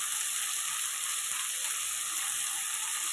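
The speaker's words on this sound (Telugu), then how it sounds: "ఇప్పుడు టమాటాలు వేసుకోండి." Tomatoes sizzle in a frying pan while a vegetable curry cooks, a steady, even hiss of frying that holds constant and fairly faint, with no talking.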